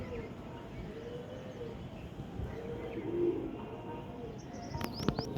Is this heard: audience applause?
no